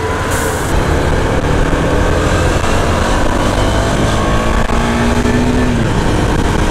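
Husqvarna Vitpilen 250 motorcycle engine, a 2023 BS7 model, revs under a twisted throttle, giving a loud, continuous close-up roar with a rising pitch sweep near the end and no talking.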